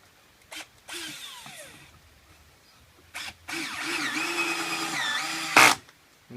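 BLACK+DECKER 20V MAX cordless drill sinking drywall screws into pallet wood and a 2x4, short whirring bursts with a longer run near the end, each ending in a sharp final bite, close and alone.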